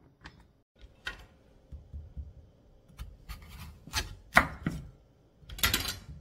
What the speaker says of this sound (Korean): 마늘 한 줌 편썰기 해줍니다